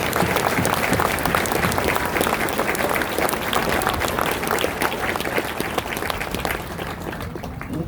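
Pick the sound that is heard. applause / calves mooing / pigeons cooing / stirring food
applause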